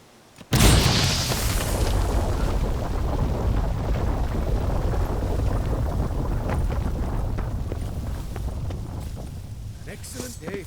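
A bomb goes off in The Witcher 3 with a sudden loud boom, followed by about ten seconds of sustained, roaring broadband rumble that slowly fades.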